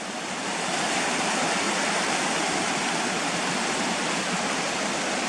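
A continuous broad rushing roar of falling water, steady and loud, with no voices or other sounds over it.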